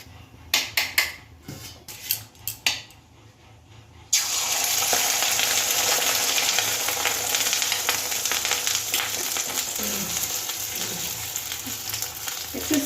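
Beaten egg omelette hits a hot pan and breaks into a loud, steady sizzle that holds close up for about nine seconds, after a few clinks and stirring knocks at the start.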